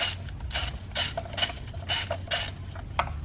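A ratchet loosens the spark plugs on a 2014-2018 Mazda 3 in a run of rapid clicking bursts, about seven strokes in an even rhythm, close and distinct with no talk.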